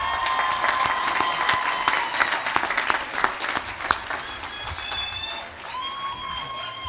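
A commencement crowd applauds university graduates with brisk, dense clapping that swells and then thins toward the end, while sustained tones from music or feedback ring over it.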